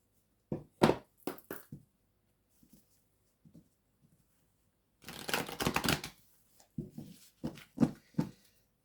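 Oracle cards are shuffled in short bursts: a few quick riffling flutters, soft taps, then a longer dense shuffle, all close and quiet with no talk.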